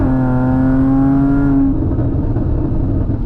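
An Audi B8.5 S fitted with an ARMYTRIX valved catback exhaust accelerates hard, its loud rising engine note droning close by before the pitch drops away into a rougher rumble.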